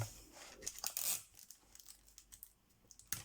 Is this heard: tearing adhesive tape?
yes